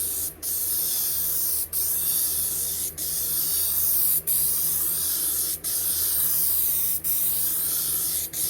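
Headliner adhesive sprays steadily from an aerosol can while a 1995 Ram 1500 headliner is redone, a continuous close hiss broken by short pauses roughly every one to two seconds.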